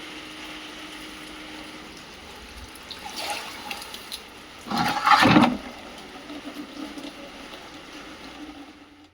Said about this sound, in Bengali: কলের জলটা পড়ে যাচ্ছে।